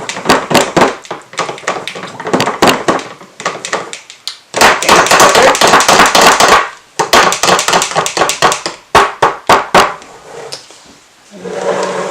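Busy bursts of knocking and banging from hammering in a room upstairs, rapid and irregular, with thuds and clatter coming in dense clusters and brief pauses between.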